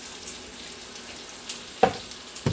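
Squash and okra coated in cornmeal fry gently in a pan, a low steady sizzle broken by a few faint pops and a clink near the end.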